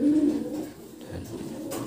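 Pigeons in a loft coo with low, throaty, rolling calls close by, a sustained burst at the start followed by softer murmuring coos.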